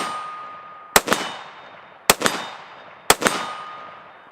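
Three sharp rifle shots at firing training, spaced about a second apart and loud and close, each crack followed quickly by a bright metallic ring from the struck target before the echo fades.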